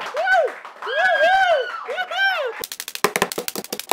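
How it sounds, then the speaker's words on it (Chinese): An applause sound effect: rising, whooping cheer-like sweeps give way to a short, crisp burst of dense clapping at the end. "有冇掌声啊"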